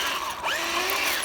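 A 1:12 scale RUKO Q111 RC tank whose wheels lack bearings gives short, faint, high squeaks that rise and fall as it rolls, over a soft mechanical whir.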